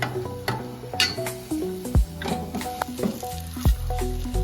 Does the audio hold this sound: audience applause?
no